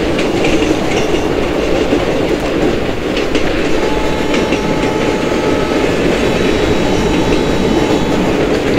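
Simulated Indian passenger train in Open Rails braking on the Bhusaval–Katni route: a loud, continuous rumble of wheels on rails with steady clickety-clack and a faint thin brake squeal running throughout.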